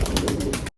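A pigeon coos briefly, a short soft burst of pulsing throaty sound close by, then cuts off.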